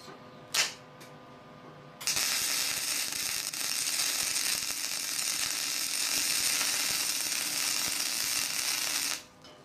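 A brief click, then loud, steady crackling and sizzling hiss of stick welding for about seven seconds before it cuts off.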